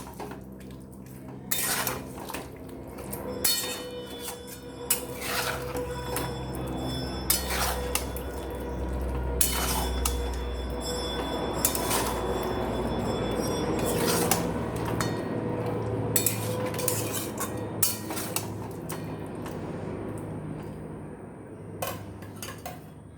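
Chicken masala for chicken rasa stirred on high flame in a pan, a busy run of metal spoon scrapes and clinks against the cookware over a low, steady cooking hiss, close and fairly loud throughout.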